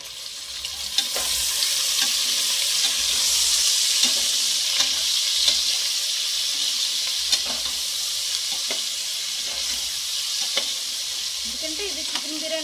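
Onions and tomato frying and being stirred in a pan for veg biryani, a steady close sizzle with repeated scraping stir strokes throughout, no talking.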